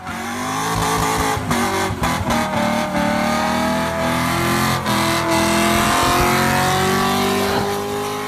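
A loud Cadillac engine with straight pipes revs hard and continuously, a raw, throaty roar rising in pitch with brief throttle blips, close and without talking.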